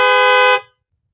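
A car horn blasts once, loud and close, holding a steady tone for about half a second before cutting off into silence.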